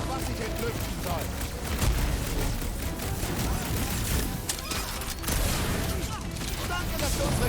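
Rapid gunfire and explosions fill the Guardians of the Galaxy video game combat, a dense continuous barrage of shots and booms, with a voice speaking over it.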